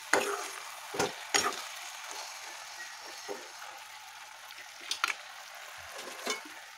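Onions and green chillies fry in a pan for a fish-head greens dish, a soft steady sizzle with a few scraping stirs of the spoon near the start and again later, close and moderately quiet.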